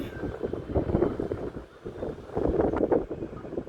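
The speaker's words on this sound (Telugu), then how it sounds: "గాలి ఫుల్ గాలి." Loud, steady wind roars across the microphone with surging gusts, close and rumbling, with no clear talk.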